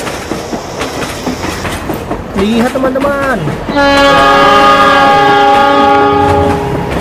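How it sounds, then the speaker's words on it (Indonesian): A train moving again near a station rumbles past with a loud, sustained horn blast that rises from the middle of the clip and holds to the end; someone speaks briefly over the noise. "Keretanya kembali berjalan teman-teman."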